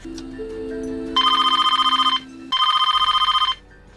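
In a horror film, a telephone bell rings in two rapid trilling bursts of about a second each, loud and close, after a soft low tone.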